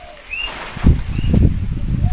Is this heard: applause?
no